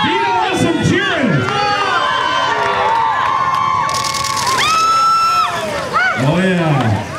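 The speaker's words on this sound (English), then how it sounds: "Gina wants some cheering!" A crowd at an outdoor Deep Freeze cold-water dip cheers loudly, with high-pitched shouts, whoops and screams overlapping in excited bursts that keep going.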